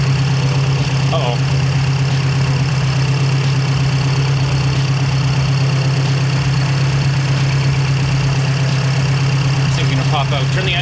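A Mazdaspeed 3 engine idles during an auxiliary fuel injector test with Bosch 1000cc injectors, a steady low hum with a rough, knocking pulse, constant and close for the whole stretch.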